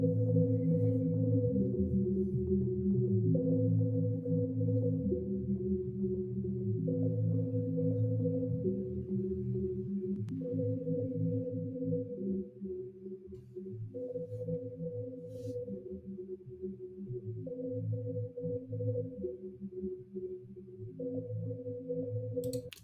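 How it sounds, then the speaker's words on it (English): Low, sustained synth pads shift slowly through chords, with choir-like tones blended in, soft and steady throughout with no voices. "that has tones of kind of a choir mixed with a synth that's like super low"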